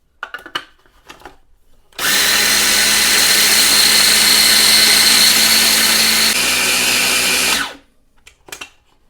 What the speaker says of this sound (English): I'm going to start by grinding up and making 3 cups of oat flour